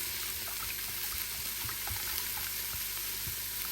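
Liquid poured into a hot 8-quart Instant Pot to deglaze it while cooking a whole chicken, giving a steady, close sizzle and bubbling with faint watery splashes throughout.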